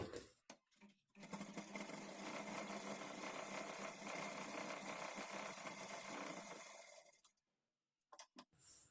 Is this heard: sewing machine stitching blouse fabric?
yes